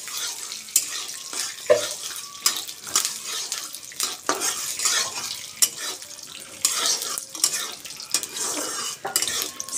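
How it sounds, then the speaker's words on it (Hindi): Almonds being dry-roasted in a metal pan, with repeated scraping and clinking of a spatula against the pan in an uneven stirring rhythm over a faint sizzle, close up with no voices. "अभी फर्स्ट बादाम भूनते हैं"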